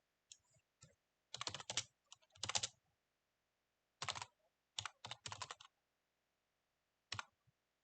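Typing commands on a computer keyboard while compiling a Linux kernel, heard as scattered bursts of close, crisp key clicks with short pauses between runs and no talking.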